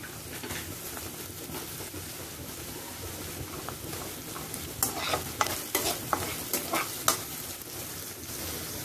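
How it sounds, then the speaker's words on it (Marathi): Onion with ginger-garlic paste sautés in a pan, a steady close sizzle of frying with scraping stirring strokes that grow sharper and more frequent in the second half; no talking. "कांदा चांगला लालसर असा परतून घेऊ आपण।"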